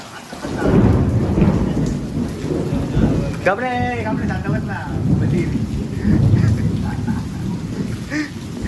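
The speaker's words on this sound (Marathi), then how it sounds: "पाऊस कमी झालाय ना" Steady rain pours throughout with low rumbling, thunder-like swells, and a brief warbling chirp rising briefly above the downpour midway.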